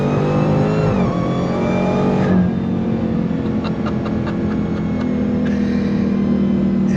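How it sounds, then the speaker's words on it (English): A 2023 Dodge Challenger Demon 170 with a supercharged Hemi V8 accelerates hard from a roll, its loud engine note climbing and dropping at a shift, with steady supercharger whine and rumble throughout and no talking. "The supercharger whine, that Hemi V8"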